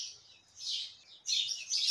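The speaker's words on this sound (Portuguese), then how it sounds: "a zoada dos pássaros cantando" Birds chirp and sing in a home backyard garden with potted plants, two bright bursts of tweeting calls rising over a quiet background, moderately close and with no talking.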